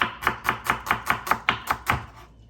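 A knife chops vegetables on a cutting board for a pork stir fry, landing eight steady, evenly spaced close thuds before stopping.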